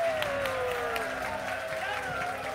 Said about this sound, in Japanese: 17期の皆さんとクラノーさんに大きな拍手をお願いします